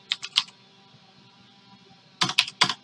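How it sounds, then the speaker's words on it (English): Quick bursts of typing on a computer keyboard, a short cluster of crisp key clicks, a pause, then another rapid flurry of keystrokes, close and clear with no voices. "I'm gonna go ahead and type in under dot phg underscore type"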